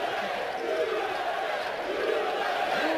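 A crowd at a poker event in Tonking roars and cheers steadily, a dense, continuous wash of voices holding at the same loud level throughout.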